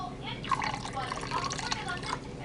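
Chicken bone broth pours from a pot into a glass canning jar, a short splashy trickle with soft drips close by, quiet and under a little background room noise.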